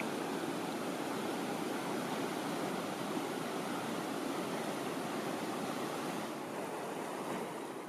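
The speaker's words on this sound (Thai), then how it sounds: "ลำธารสายน้อยบนเกาะตารูเตาคือแหล่งรับน้ำฝนจากสันเขา" A small stream on Tarutao island, fed by rain draining off the ridges, rushes steadily and evenly throughout as a dense, unbroken wash of flowing water with no voices.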